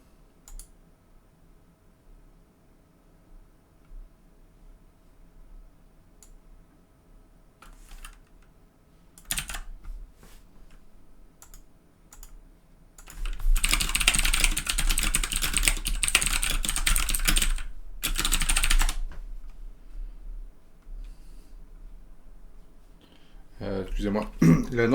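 A server name is typed on a computer keyboard in bursts of clicking keystrokes. They start sparse and faint, then turn into a dense, loud run of rapid typing mid-clip, with someone speaking French at times.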